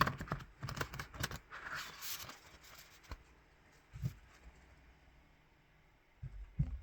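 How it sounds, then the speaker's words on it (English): A single shuffle of a deck of oracle cards: a quick burst of riffling, flapping card noises, then a few soft taps and handling sounds, all faint and close by. "I'm going to do one shuffle."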